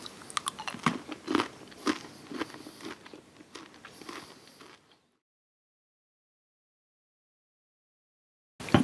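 Crunchy chocolate popcorn is bitten and chewed close up, a run of sharp crisp crunches for about five seconds, then silence before one last loud crunch at the end.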